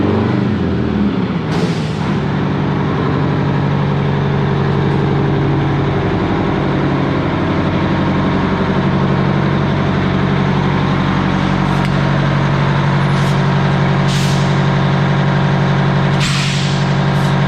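A heavy truck idles with a loud, steady low diesel rumble as it drives into an alignment bay, with several sharp hissing air-brake bursts near the start and toward the end, and no talking.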